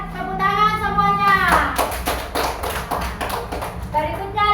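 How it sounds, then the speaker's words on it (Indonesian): A group of children in an Indonesian Islamic religious education class claps together, a burst of dense, close hand claps following singing or talk and fading as a voice carries on. "sekarang tepuk tangan semuanya"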